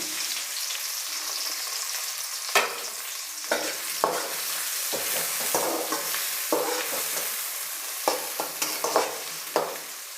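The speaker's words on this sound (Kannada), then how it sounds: "ಎಣ್ಣೆ ಬಿಸಿ ಆಗಿದೆ ಈಗ ಕಟ್ ಮಾಡಿರೋ ಈರುಳ್ಳಿನ ಸೇರಿಸ್ತಾ ಇದ್ದೀನಿ" Chopped onions sizzle steadily in hot oil in a pan, with sharp scraping clicks from a spoon stirring them at irregular intervals; the frying hiss stays close and constant, with no talking.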